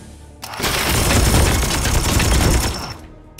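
A dense burst of rapid gunfire from the video game Warhammer 40,000: Chaos Gate - Daemonhunters rattles loudly for about two and a half seconds, then cuts off abruptly.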